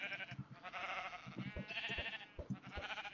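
Sheep bleating in the Minecraft video game, several wavering cries close and clear over a continuous background sound, with no talk.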